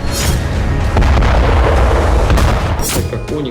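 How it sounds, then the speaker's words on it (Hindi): A Russian Onyx missile strike explodes with a loud, roaring, distorted blast and heavy low rumble that persists throughout, followed by a second sharp burst near the end. "रूसी सेना ऑनिक्स मिसाइल से भीषण प्रहार कर रही है।"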